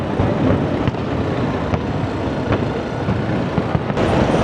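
Fourth of July fireworks over New York City, heard from a crowded spot in Brooklyn, crackle and thump as a dense, continuous rumble with scattered sharp pops over a noisy crowd.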